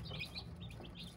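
Small chicks chirp while eating from a plastic feeder, high faint tweets scattered over a soft low background.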